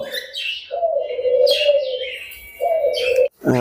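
Tame budgerigars chirp in a bird farm aviary, with steady close warbling tones and brief higher chirps repeating across a few seconds, and no talking.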